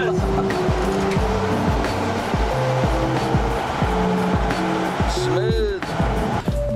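A 1970 Volkswagen Bus cruises along a road, its air-cooled engine droning steadily with a rhythmic pulsing hum and road rumble. A brief rising voice-like sound rises near the end.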